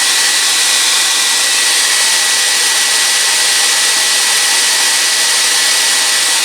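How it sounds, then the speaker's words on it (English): A hair dryer blows steadily on a wet paint job on a custom Super Godzilla figure, a loud, unbroken airy whoosh with a high whine, close to the mic and with no speech over it. "hair dryer comes in handy"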